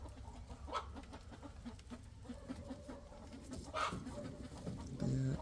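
Indian fantail pigeon chicks in a breeding loft give soft, scattered chirps and cooing calls, faint and intermittent against low background noise.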